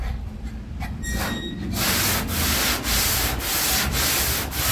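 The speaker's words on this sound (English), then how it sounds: "So I'm gonna start sanding on this and see if I can get some of my amateur" Black epoxy primer on a panel being sanded by hand with 180-grit paper, a loud continuous rough scraping that swells in regular back-and-forth strokes after a brief quieter start.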